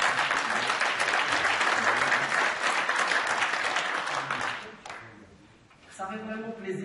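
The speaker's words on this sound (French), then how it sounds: "Je vous demande d'applaudir Yassine." Audience applause for Yassine at a conference, a dense, loud wash of clapping that holds steady for about five seconds before fading, then a voice speaking over the tail.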